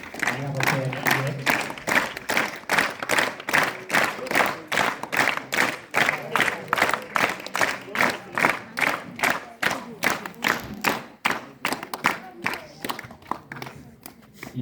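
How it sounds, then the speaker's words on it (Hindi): Audience applause at a school staff felicitation ceremony, a sustained wave of many hands clapping with a pulsing rhythm that carries on for the whole stretch, fairly loud and close, with a few voices mixed into the crowd. "तालियां बजाते हुए"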